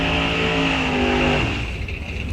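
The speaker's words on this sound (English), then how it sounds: "A big smoke and burnout out of that whole pan." A drag race car at Rock Falls Raceway's Fall-Out Drags holds a loud, steady high-revving engine drone for a burnout, its pitch dropping off partway through, with no voices over it.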